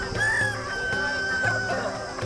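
A rooster crows loudly amid clucking chickens at a livestock market in Bhopal, with steady background murmur around the birds.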